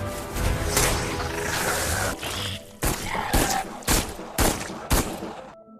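A film scene in which a colonel's gunshots kill a predator creature: a dense, roaring creature-and-action din gives way to five sharp, loud shots spaced about half a second apart, with no talking.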